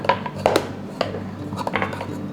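A spoon clinks and scrapes against a bowl while apples are tossed with sugar, cinnamon and lemon juice, giving a few close, sharp knocks and softer rattling strokes at an irregular pace.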